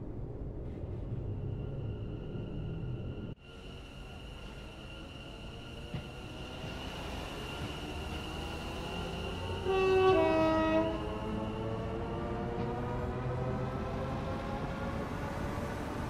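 London Overground train in Train Sim World 4, a steady rumbling rail drone with a long, loud horn blast rising partway through, no voices.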